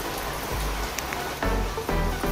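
Steady rain falls outdoors, a constant close hiss of drops with a low rumble beneath and a few soft thuds that swell the noise briefly.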